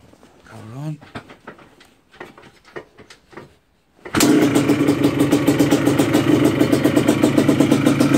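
A Yamaha Blaster ATV with an OKO 30 mm carburetor starts abruptly after some scattered handling noises and brief talk. It settles straight into a loud, steady, pulsing two-stroke idle.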